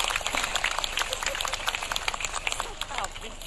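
Applause from a gathered audience welcoming a regional regent at an Indonesian religious sermon, with dense, steady clapping throughout and crowd noise and voices mixed in.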